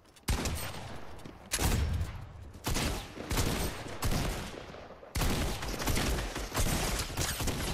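Gunfire in Fortnite OG, several bursts of loud rapid automatic shots separated by short pauses, close and dominant with no talking.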